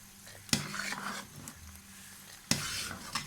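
Cornflour mixture being stirred into milk in a cooking pot: two loud spoon clanks against the metal, then quick scraping strokes over a faint bubbling hiss, close by.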